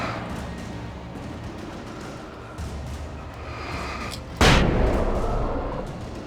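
A flashbang grenade goes off in the video game Alan Wake, a single sharp loud blast with a rumbling tail, following several seconds of dense, noisy game ambience.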